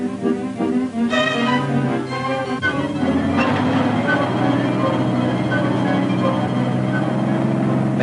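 Railroad cars coupling and rumbling in a 1940s army rail yard at Camp Claiborne as a military train is assembled, a steady loud mechanical din with clanks early on.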